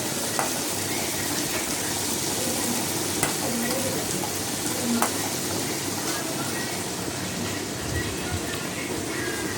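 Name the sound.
tomatoes sautéing in a pan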